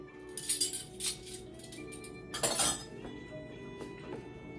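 A spoon stirs a mixture with added nutmeg in a glass bowl, giving bright clinks and scrapes in a few quick bursts, close and without talk.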